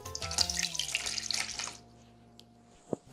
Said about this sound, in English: We're going to add 1 cup of water